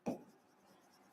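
Chalk or marker strokes on a classroom board during a chemistry lesson: one short, fairly loud scratching stroke at the start, then fading to a quiet room tone.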